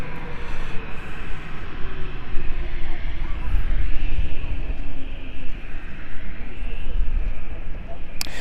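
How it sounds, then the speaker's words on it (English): A 12-year-old Cessna private aircraft at London City Airport, a steady broad engine roar that swells and fades over several seconds, with a person talking over it. "that is a 12-year-old Cessna"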